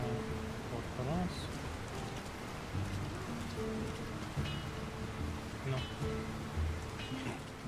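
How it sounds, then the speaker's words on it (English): Steady in-game rain falls over a town in The Lord of the Rings: War in the North, a continuous soft hiss of drops with faint surface patter, while a voice and other speech murmur over it. "Who could live in a town where it's always raining?"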